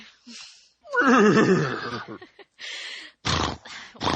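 A horse neighs in one loud, close whinny with a wavering pitch, set among short bursts of other sounds and what may be brief voices.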